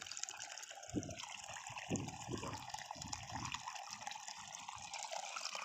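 Steady rushing water gushing from an irrigation pipe onto a field, with a low churning burble pulsing beneath a constant broadband hiss outdoors.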